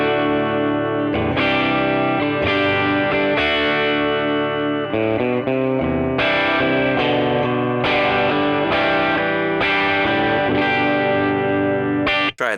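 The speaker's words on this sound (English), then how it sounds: "It's just guitar into the AC10 profile, into the speaker profile." Distorted electric guitar plays chords and riffs steadily through an AC10 amp profile and a 1x12 speaker profile for about twelve seconds, loud and close, with no talking.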